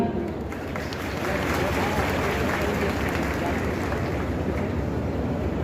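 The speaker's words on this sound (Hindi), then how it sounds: "बधाई तो बनती है और तालियां भी" A crowd at a free eye camp claps, a loud, continuous round of applause with crowd noise mixed through it from start to finish.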